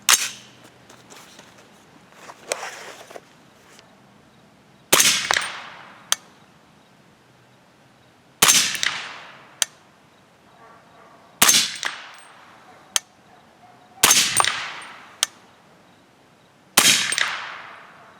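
A 300 Blackout rifle with a 16-inch barrel fires Hornady 208gr handloads charged with IMR 4198: six sharp, loud shots spaced a few seconds apart, with small clanks and handling noises between them.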